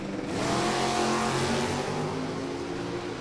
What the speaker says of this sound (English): Boy, there's no mistaking those blower cars